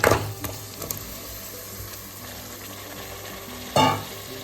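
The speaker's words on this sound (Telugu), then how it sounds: "దాంట్లోకి ఇప్పుడు రెడీ చేసి పెట్టుకున్న కడిగి పెట్టుకున్న పాయ ఉంది కదా, దాంట్లోకి వేసేస్తున్నాను" Washed mutton paya drops into a pan of fried onions, chillies and ginger-garlic, a loud clatter and sizzle at the start, then steady frying hiss, with a second sharp clank near the end.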